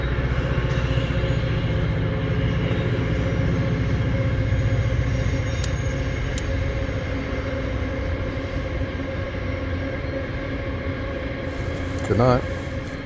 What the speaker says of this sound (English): Oh, it's a train.